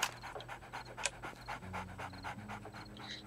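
A dog in the 7 Days to Die video game pants in rapid, rhythmic breaths, a steady close huffing that continues throughout and sits over a low hum, with no talking.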